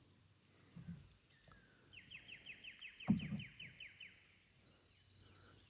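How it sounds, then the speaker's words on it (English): A bird gives a quick rising trill of repeated chirps over a steady high insect drone, with faint calls in the background. "All the different birds. It's beautiful."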